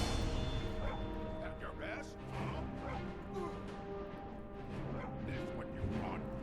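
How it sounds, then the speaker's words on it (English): A dog barks in the Skyrim video game, short yips and barks breaking through steady game ambience and music, with someone talking over it. "Oh, I hear my dog."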